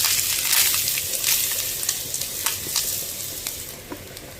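Grated coconut fries in coconut oil in a pan, a loud, close, steady sizzle with stirring scrapes that fades slightly over a few seconds.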